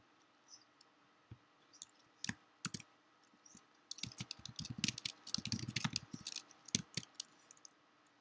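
Typing on a computer keyboard during a game development stream: faint, sparse key clicks at first, then a quicker, denser flurry of keystrokes in the middle before slowing to scattered taps.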